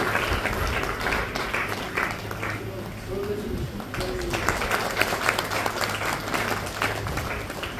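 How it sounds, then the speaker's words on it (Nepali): Crowd applauding loudly at the inauguration of a Hebron Pentecostal Church headquarters in Rongeli, dense sustained clapping with some scattered louder claps and voices mixed in throughout. "हामी सबैजनाले एकदमै जोरदार ताली लगाउनेछौँ।"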